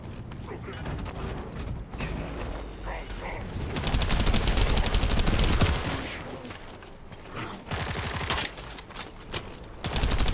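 Sustained rapid gunfire aimed at an assault ship in the video game The First Descendant, loud dense bursts with mechanical clanks and booms, running almost without pause and partly under game voice lines.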